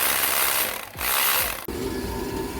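A ratchet wrench clicks rapidly while taking a nut off a Fiat Grande Punto during rear core plug work, two close bursts of ratcheting separated by a short pause, then a duller mechanical clunk and low hum.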